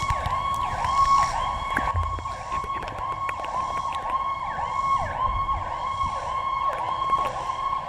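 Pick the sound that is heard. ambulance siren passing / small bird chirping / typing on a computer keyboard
ambulance siren passing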